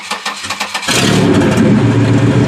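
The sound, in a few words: car engine starting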